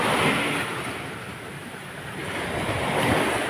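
Sea waves wash and surge near a house by the shore in a continuous broad roar, with wind buffeting the microphone.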